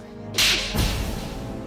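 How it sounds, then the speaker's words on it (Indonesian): A hard slap across the face lands in a tense domestic quarrel in an Indonesian TV drama, one sharp crack followed by a brief whooshing tail over low room tone. "Biar saya tampar lagi kamu"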